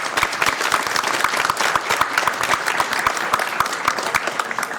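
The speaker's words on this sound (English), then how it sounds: "give them a big round of applause." At a Sacramento City Council meeting, the audience gives a round of applause: close, crisp individual claps blending into a lively steady patter for about five seconds, with no speech over it.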